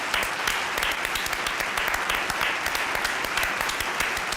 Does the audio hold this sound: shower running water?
no